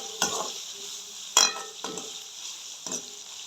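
Chopped onions sauté in a pan for a Jaffna-style potato curry, giving a soft, constant sizzle broken by four scraping, clinking stirs of a spoon against the pan.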